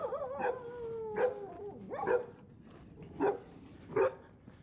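A dog at an enclosed rooftop lodging in Nicaragua barks about five times in separate, spaced bursts, fairly close and loud against a quiet background.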